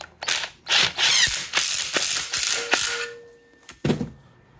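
Ratchet wrench clicking in repeated bursts while tightening cylinder head bolts on a 6.0 LQ4 LS engine build, close and loud, several quick cranking strokes followed by a final short burst.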